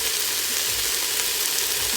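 Turmeric goes into vegetables frying in an Instant Pot for a quick pulao, giving a steady, close, loud sizzle with faint stirring scrapes and no talking.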